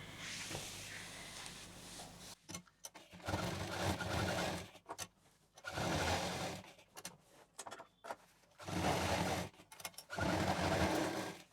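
A sewing machine stitches the handle of a cloth shopping bag in bursts of steady whirring, five or six runs separated by short pauses and clicks, close and fairly quiet.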